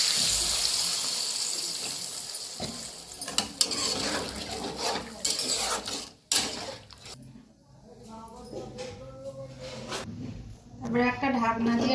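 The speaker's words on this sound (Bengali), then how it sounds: "এবারে পানি দিয়ে নেবো" Water is poured into a spicy taro, eggplant and egg curry cooking in a pan, a splashing rush followed by sizzling and utensil clatter while a person talks.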